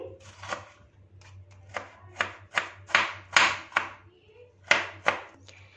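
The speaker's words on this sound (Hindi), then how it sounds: "छोटे पीसेस में कटिंग कर लेंगे।" A knife chopping a peeled tomato into small pieces on a board, a series of about ten crisp, close taps in an irregular rhythm over a low steady hum.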